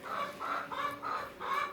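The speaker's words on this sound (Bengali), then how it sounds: "মুরগিগুলি বেরোতে পারতেছে না।" Hens on a farm, stuck sheltering at the foot of some stairs during rain, cluck nearby in four evenly spaced bursts. The sound is moderately loud with no voices.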